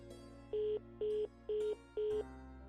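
Four short, evenly spaced electronic ring bursts, each about a quarter second long, sound over a quiet background hum.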